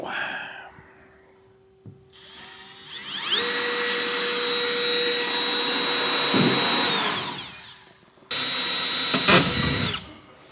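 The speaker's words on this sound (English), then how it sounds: "So we'll go ahead and drill our 1/8" drill holes now." A power drill drilling 1/8-inch holes in a fifth-wheel trailer hitch head assembly whirs in two bursts, a long steady whine followed by a shorter one, with a faint rattle between them.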